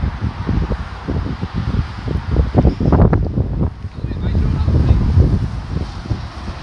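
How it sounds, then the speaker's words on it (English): Gusty wind rumbles and buffets the microphone, rising and falling, with a person speaking intermittently beneath the low roar. "It is a bit windy, to be fair."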